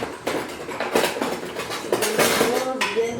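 A serving plate is handled in a kitchen, giving several clinking and scraping knocks of crockery in irregular succession, close and fairly loud.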